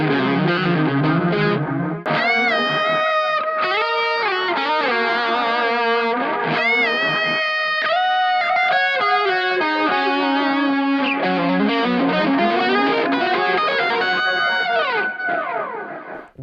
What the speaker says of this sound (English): Now let's switch to a distorted sound.